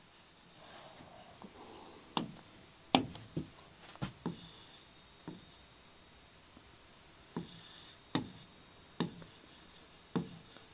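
Quiet writing strokes scratch across a surface in short, irregular bursts with small pauses between them, close and faint against a hushed room.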